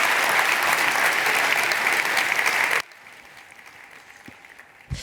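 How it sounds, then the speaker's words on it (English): A large audience gives sustained, dense applause for guest speaker Klaus Leopold at an INSPIRE business event, loud and full for nearly three seconds before cutting off sharply to a quiet room with a few faint thumps. "a huge round of applause, please, for Klaus Leopold"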